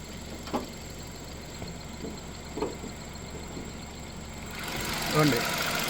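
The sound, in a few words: Hyundai i20 Sportz car engine idling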